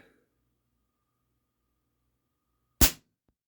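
A single sharp crack from a Crosman 1377 pump air pistol, loud and close, ringing out of near silence late in the clip with a faint tick just after.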